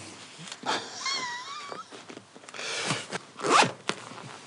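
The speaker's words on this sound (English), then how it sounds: "You can just zip up your PECRON." A zipper is drawn repeatedly in quick rasping strokes to close a cover on a PECRON E3000 portable power station. The strokes are close and moderately loud, with no talk.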